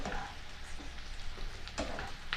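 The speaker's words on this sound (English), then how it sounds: "Stir those up on occasion." Mushrooms and onions frying in butter with basil, stirred now and then, a soft steady sizzle with occasional scraping of the spoon, fairly quiet and up close.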